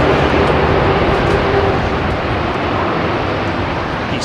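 A heavy jet taxiing at London Heathrow Airport produces a loud, continuous engine roar, a broad steady rumble with no gaps or talk.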